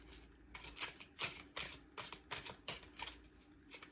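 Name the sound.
shuffling tarot cards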